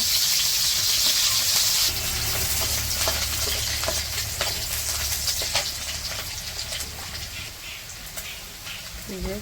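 Onion and green chili sizzle in hot oil in a wok, a steady frying hiss with stirring scrapes and clinks, loudest at the start and easing slightly, with faint voices in the background.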